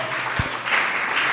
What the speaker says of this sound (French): applaudissez-moi tous ces messieurs